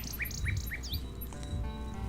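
Chirps from a nightingale in the video game King's Quest VI, a few short tweets repeated in a quick rhythm and then a sweeping call, clear and close over a soft musical background.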